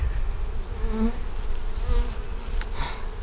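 A steady, droning buzz of many honey bees at a honey-bound hive fills the clip, continuous and close, with slight shifts in pitch as insects move around.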